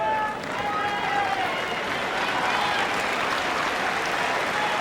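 The Wimbledon crowd applauds in a steady, dense wash of clapping that fills the stands evenly from start to finish, with a commentator's voice speaking over it.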